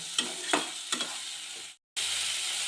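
Chopped tomatoes with salt fry over medium heat in a pan, sizzling steadily while a spoon scrapes through them in several distinct strokes. The sound drops out briefly, then the steady hiss resumes.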